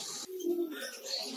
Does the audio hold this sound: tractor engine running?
no